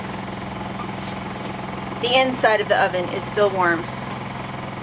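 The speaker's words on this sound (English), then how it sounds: "Have the ditch pump running in the back" A ditch pump on an off-grid homestead drones steadily in the background throughout, a low constant hum that continues under a person talking.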